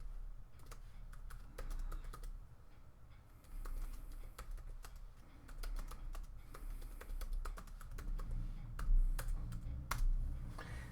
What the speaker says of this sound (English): let's go to text and type in your sentiment